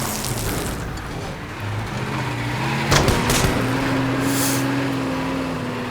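A car drives in the video game Teardown with a steady engine drone whose pitch rises, a sharp thud partway through, and dense crackling noise throughout.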